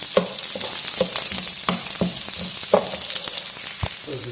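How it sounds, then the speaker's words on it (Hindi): Coarsely cut vegetables sauté lightly in a pan for a Pakistani-style Szechuan green bean stir fry, a steady close sizzle with frequent stirring clatters and scrapes and no talking. "अभी ये हमने हल्का सा इसको 1 मिनट के लिए सौते किए।"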